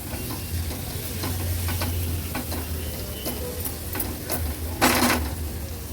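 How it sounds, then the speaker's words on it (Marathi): Finely chopped tomato is stirred into sizzling masala in a pan for a restaurant-style veg thali, with steady frying hiss and repeated scraping spoon strokes, one louder scrape near the end. "टोमॅटो देखील व्यवस्थित आपल्याला मिक्स करून घ्यायचा आहे."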